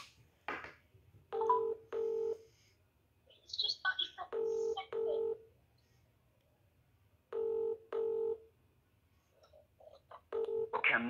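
Telephone keypad tones dialing out to call someone back, in several quick bursts of two or three steady beeps separated by pauses, with faint voices murmuring in between.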